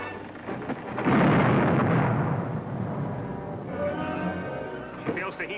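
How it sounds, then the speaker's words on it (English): A ship's cannon fires a warning shot across another vessel's bow in an old-time radio adventure drama, a loud booming blast that swells and rolls on for several seconds before trailing off, with brief voices nearby. "fire a shot across her bow"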